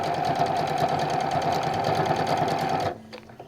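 A sewing machine runs at a fast, even clip stitching bias binding flat along a seam, a close, steady mechanical whir that stops abruptly near the end, followed by a brief quiet tone and a small click.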